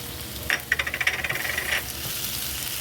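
Chili and garlic tumble into a hot pan for a sweet spicy fish cake, setting off a quick burst of rattling, clinking pieces followed by about a second of bright sizzling that fades back to steady frying.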